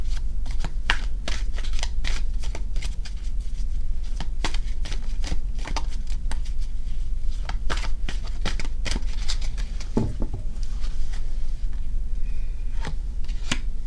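A deck of numerology guidance cards is shuffled steadily and close up, with a continuous riffling patter of crisp card flicks throughout and no speech.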